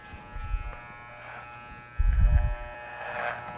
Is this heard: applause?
no